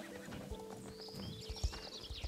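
A horse with a foal trailing behind in the Star Stable game clip-clops in a quick, uneven hoof rhythm, and a high neigh rises partway through.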